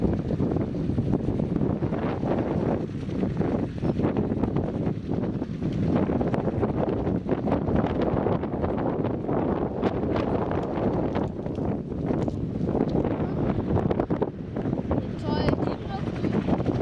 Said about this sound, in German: Windig.